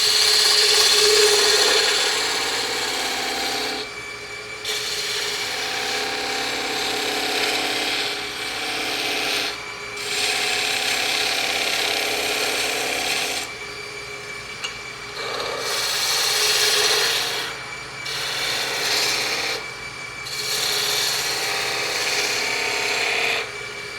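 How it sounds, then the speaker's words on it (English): A spindle gouge cuts a rolled corner on spinning wood on a lathe, a loud continuous scraping hiss over the motor's steady hum, pausing briefly several times between passes. "I'm going to use the spindle gouge,"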